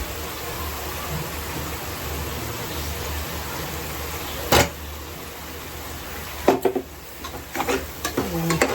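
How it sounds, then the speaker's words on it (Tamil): Masala paste sautéing in oil in a pan, a steady close sizzle with stirring scrapes throughout and a few sharp clatters toward the end. "அதிலே இந்த பச்சை வாசனை கொஞ்சம் போகிற வரைக்கும் நம்ம இதை வதக்கலாம்"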